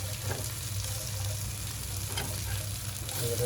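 Seer fish being fried in a pan gives a steady, faint sizzle with a soft crackle and occasional stirring scrapes, heard alone with no talking.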